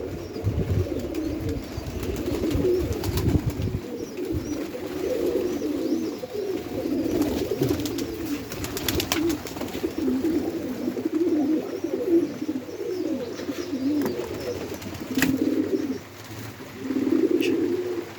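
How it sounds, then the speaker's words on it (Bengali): Many pigeons cooing around a set of rooftop pigeon coops on a rainy day, a continuous overlapping murmur of low coos from several birds, moderately close, with occasional soft wing flaps. "কতগুলা কবুতরের বাসা। সবগুলা খোপে কবুতর আছে"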